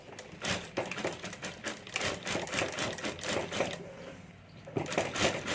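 A sewing machine stitches a party bag in short bursts of rapid clattering, stopping briefly between runs, close and fairly quiet with no talk.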